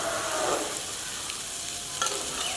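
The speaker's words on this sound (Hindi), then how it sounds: "1 प्याली किशमिश है मेरे पास, इस मौके पे ये शामिल कर लेंगे। इसे थोड़ा सा भून लेंगे।" Raisins frying in a pan with oil for Kabuli pulao, a steady close sizzle with stirring scrapes and a few brief clinks, no voices.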